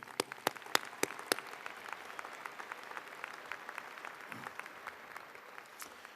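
Applause from a crowd at a University of Idaho commencement ceremony, with a few loud close claps at the start, then steady, fainter clapping that continues throughout.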